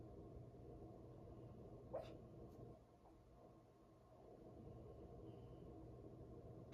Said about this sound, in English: She's yelping in her sleep.